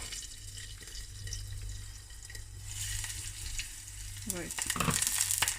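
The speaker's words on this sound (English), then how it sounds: "We're going to add the chilies, the green chilies. We're going to let it fry properly." Green chilies fry in hot oil for a khaman dhokla tempering, giving a steady close sizzle and crackle that swells louder toward the end, with a brief spoken word near the close.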